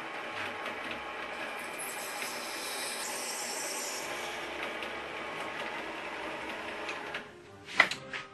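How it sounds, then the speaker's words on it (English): Metal lathe turning down a 1¼-inch cap, a steady broadband whirring and hissing cut running continuously at close range, ending with a brief sharp scrape near the end; no talking. "because my lathe is my new toy, so I'm going to go ahead and turn down this 1¼-inch cap"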